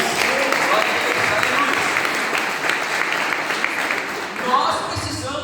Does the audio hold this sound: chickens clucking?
no